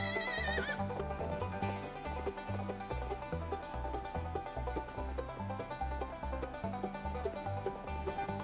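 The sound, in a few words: horse neighing in video game Cowboy Life Simulator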